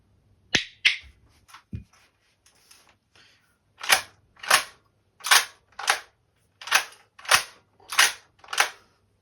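A reproduction WWII US cricket clicker snapped repeatedly: a few uneven clicks, then a steady run of about nine loud, bright metallic clacks at roughly half-second intervals, close and alone.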